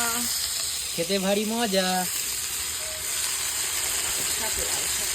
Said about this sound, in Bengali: ওই যে লাল শাক ভাজা